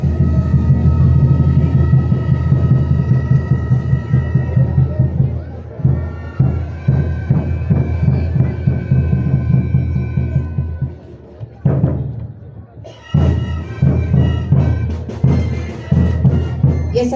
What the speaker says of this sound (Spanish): instrumentos utilizados para el acompañamiento de la danza son las tarcas de 6 orificios en sus 3 variedades: grandes, medianas y pequeñas